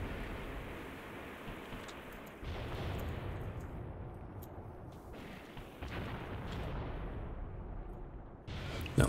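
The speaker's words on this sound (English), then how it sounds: "See some nice big explosions up there soon" Artillery shells in the war game Graviteam Tactics explode over and over as distant booms, heavy low rumbles that swell and roll one into the next, with a sharper, louder blast at the very end.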